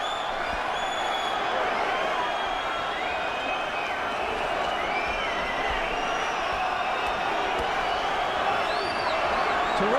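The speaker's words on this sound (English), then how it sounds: "Just listen to the crowd." A boxing arena crowd roars steadily through a heavyweight bout, a dense continuous wall of cheering and whistles with scattered whoops rising over it, while commentators talk in the background.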